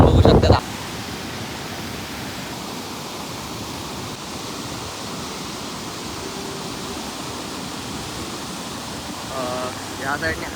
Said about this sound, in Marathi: हे बघा, पावसाचा पण जोर चाललाय